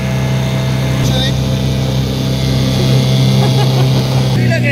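A twin-engine motorboat runs steadily up close, its low droning hum continuous throughout, with brief voices and background chatter over it.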